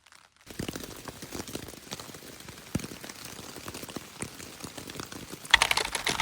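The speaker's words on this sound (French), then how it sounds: "Il commence déjà à pleuvoir." Rain begins to fall on a mountain trek in the Balkans, scattered drops tapping sharply and irregularly on a nearby surface, growing denser with a brief louder patter near the end.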